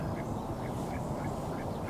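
Ducks quack by the water at a fishing match, their calls faint and repeated over a steady, dense background of outdoor noise with no talk.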